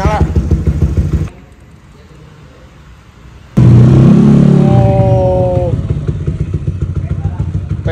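A Yamaha Aerox scooter with a bored-up, stroked engine of nearly 300cc runs loud and close, sputtering, dropping to a low idle, then roaring back with revving, and voices talk over it.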